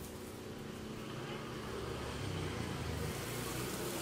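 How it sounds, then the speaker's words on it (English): A car passes along a road, a steady broadband rumble that swells slightly toward the end and stays continuous throughout, with no voices. "This is our rush hour traffic."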